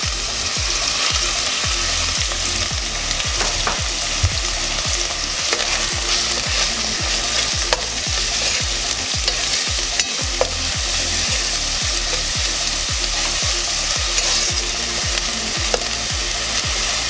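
A chicken seasoning blend sautés in a pot, a loud, continuous sizzle broken by rapid rhythmic scraping and stirring strokes close by.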